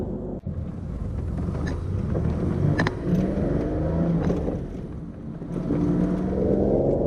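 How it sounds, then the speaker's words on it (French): A 1973 Citroën SM's V6 engine revs on a country road, a steady throaty drone with rising and falling pitch as it accelerates, heard from inside the car with wind noise and no talking. "Un super bruit de V6."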